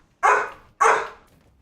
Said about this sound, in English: Apologies for the barking, by the way.